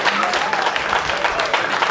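Audience at a company ceremony gives a standing ovation in honour of staff, a continuous dense wash of many hands clapping, loud and even throughout.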